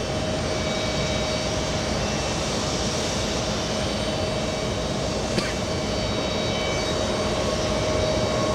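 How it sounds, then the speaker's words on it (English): Lufthansa jet airliner taking off at JFK Airport, a loud, steady engine roar with a sustained whine, close and continuous throughout. "Lufthansa taking off."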